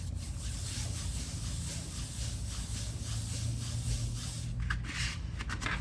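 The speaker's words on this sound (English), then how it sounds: "turn it over, rub it from this side" Hand rubbing over pressed-down paper craft material on a straw box Easter journal, a steady soft scraping friction that stays low and continuous throughout.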